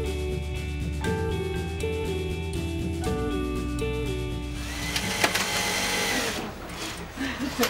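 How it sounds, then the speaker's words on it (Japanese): Sewing machine in a Kyoto purse workshop, whirring steadily in short runs with brief changes in pitch, then giving way to busier clattering workshop noise near the end. "小気味よくミシンの音が響く京都にある綾小路の工房。"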